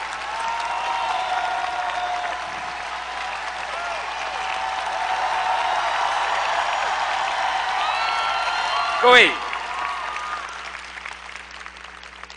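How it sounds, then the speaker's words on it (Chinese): Dense, steady applause from an audience at an Amway convention runs continuously, swelling slightly midway before tapering off, with a brief voice heard near the end. "那你们要真正的鼓掌哈"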